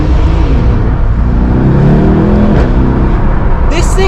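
A Mercedes E63 S AMG at full throttle, its engine roaring steadily and climbing in pitch as it accelerates hard, loud from inside the cabin with wind and road noise underneath.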